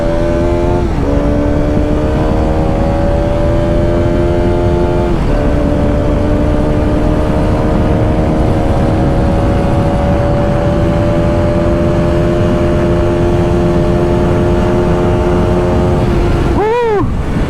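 A Bajaj Pulsar RS200 motorcycle at high speed, the engine droning loud and close with rising tones through gear changes and strong wind rush, ending in a brief sharp swell.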